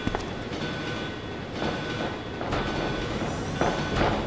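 A train runs steadily through the whole stretch, a dense continuous rumble with faint clacking and brief louder surges, in the video game Resident Evil 2.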